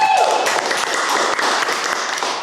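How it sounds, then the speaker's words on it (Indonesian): A room full of people applauds, with dense, steady clapping that continues for the whole clip. "Tepuk tangan untuk David Setiawan."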